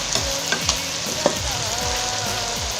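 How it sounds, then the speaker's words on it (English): Bodi, or long beans, frying in a pot and being stirred, a constant loud sizzle with repeated scraping sweeps of the spoon at close range. "So we just stir it a little bit and leaving that as it is for now."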